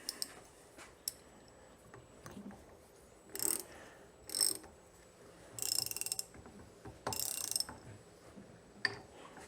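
A ratchet socket screwing a part back down on a Honda CRF450R motorcycle fork, with bursts of quick metallic clicking in several short runs separated by pauses, close and fairly quiet.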